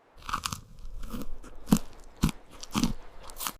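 Crisp crunching bites into grilled Mexican-style corn topped with feta and chili, a few sharp crunches spaced about half a second apart, close and clear, followed by soft chewing.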